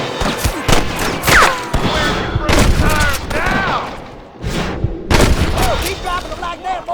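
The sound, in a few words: gunfire in the Red Dead Redemption video game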